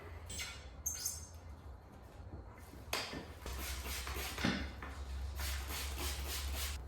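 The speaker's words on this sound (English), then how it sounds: "less of a chance for it to wrinkle and pinch on the tire spoons" Tire spoons work a tube into a motorcycle tire by hand, making quiet, close-up rubbing and scraping with a few sharper scuffs and creaks.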